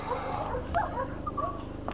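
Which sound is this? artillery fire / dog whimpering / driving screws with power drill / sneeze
dog whimpering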